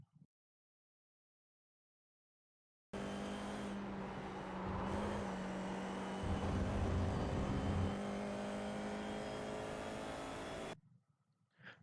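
An FIA F4 race car engine on the Hungaroring circuit revs hard under acceleration, a loud, buzzing, steadily climbing drone that starts abruptly after silence, swells, and cuts off near the end.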